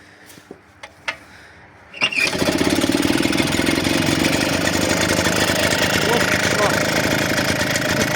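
A carburetted generator engine is pulled to life after a few quiet clicks, then settles into a loud, steady, close idle with a rapid even chug that continues to the end.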